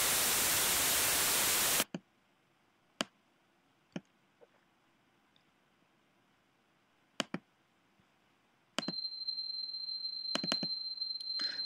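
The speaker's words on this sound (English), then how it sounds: "let's go back to our noise signal and let's isolate a single frequency out of it." A burst of broad hissing noise cuts off abruptly and gives way to near silence with scattered clicks. It then returns as a steady, thin, whistle-like tone of filtered noise narrowed to a single frequency band, with faint low rumble beneath.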